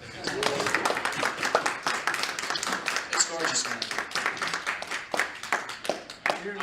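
A small panel-discussion audience claps and applauds enthusiastically, with people talking and laughing over the clapping.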